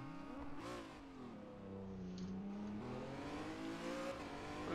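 A Mégane race car pulls away from a standstill on the Long Beach street circuit during a sim-racing league round, its engine rising through gears with a steady, fairly loud tone.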